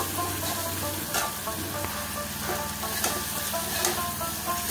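Young bottle gourd greens curry cooking in a pan with a little green chilli, stirred with a utensil, giving a steady sizzle broken by scraping and clinking strokes.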